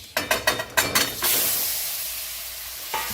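Several quick clattering knocks in a pan lead into a loud, sustained sizzle that slowly fades as fish goes into hot oil with red chilli powder, and a final clink sounds near the end, with no talk.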